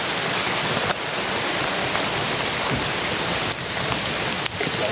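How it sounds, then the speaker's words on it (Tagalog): Heavy rain pours down steadily, a dense, loud hiss of drops drumming on surfaces with no letup. "Sobrang ulan guys."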